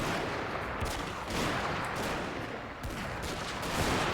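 Ashigaru troops firing musket volleys in Shogun 2 Total War, a continuous roar of massed gunfire and battle din that swells and dips without pause.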